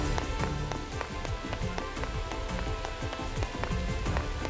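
Steady rain patters on surfaces in the video game The Alliance Alive, a dense, continuous hiss of drops with faint taps, evenly loud throughout and without speech.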